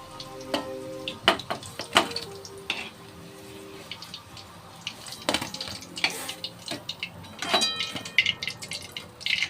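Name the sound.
chicken pakora frying in oil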